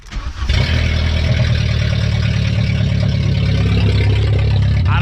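A junkyard VW Golf 3 engine cranks briefly, then catches and settles into a loud, steady rough idle that runs continuously from start to end.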